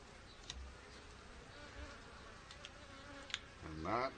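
Honey bees drone softly in an open hive while frames are eased apart, a faint continuous buzz with a louder nearby pass at the very end.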